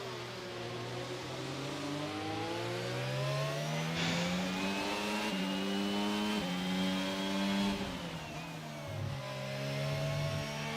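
F1 race cars in a racing video game running in a line on the Canada circuit, a steady high-pitched engine whine from several cars that rises and falls in pitch as they shift and pass, with no talk.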